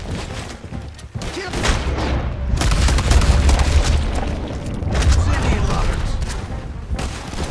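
Gunfire from a shootout in the Western video game Red Dead Redemption 2, with loud booming shots and rattling volleys that run almost continuously alongside shouted voices.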